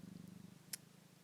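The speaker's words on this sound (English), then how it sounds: "I apologise for the purring that you're gonna be hearing while I'm trying to talk." A cat purrs close by in a soft, steady rhythmic rumble, briefly interrupted by a single sharp click.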